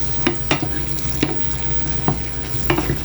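Pork stirred back into a pan with oil, with bagoong alamang about to join: a low steady sizzle runs throughout, broken by several sharp spatula scrapes and clanks against the pan, no talking.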